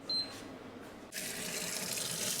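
Hot and cold water runs at a kitchen sink in a house, a faint tick, then the tap opens into a steady, hissing stream that continues to the end.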